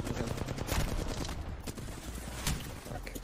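Rapid video game gunfire crackles without a break, dense, close and steady throughout.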